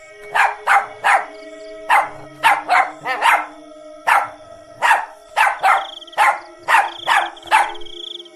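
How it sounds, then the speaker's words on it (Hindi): A dog barks loudly and repeatedly in a horror story about a witch and a dog, with about eighteen sharp, close barks in quick uneven bursts and no one talking. "वो जोर जोर से भौंकने लगता है।"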